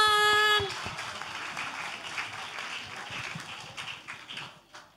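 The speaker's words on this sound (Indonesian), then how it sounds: "Wow, tepuk tangan." Audience applause in a campus hall during orientation for new university students, a steady wash of many hands clapping that follows a brief loud tone at the start and fades slightly toward the end.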